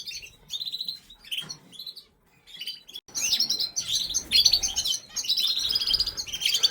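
A canary hen chirps in a breeding cage, giving clusters of bright, high tweets that come and go, then grow more continuous and busy in the second half, fairly close and with no talking.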